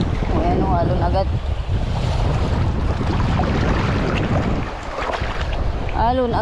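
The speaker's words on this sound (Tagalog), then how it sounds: "Ayan alon agad." Waves slap against a small fishing boat at sea in choppy, deep water, a steady loud wash with wind buffeting the microphone and brief voices at the start and end.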